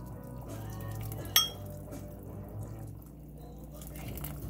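Homemade soup is ladled into a bowl with soft liquid pouring and light clinks of utensil against dishware, one sharper clink standing out, all at close range and fairly quiet.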